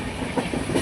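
A train rolls along with a steady, close rumble and faint rhythmic clatter of the wagons over the rails, heard only briefly with no voices.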